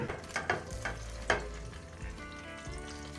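Chicken thighs frying in hot oil in a pan, a close sizzle broken by a few sharp clinks and scrapes of a utensil early on before settling into a softer, steady fry.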